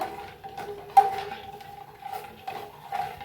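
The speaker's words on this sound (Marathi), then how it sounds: "आता जर हलवून ना साखर इरगळून घेऊया दुधात" A spoon stirs sugar into hot milk in a pot for custard milk, making faint, sparse clinks against the metal with one sharper knock.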